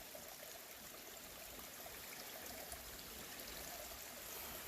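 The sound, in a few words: small stream flowing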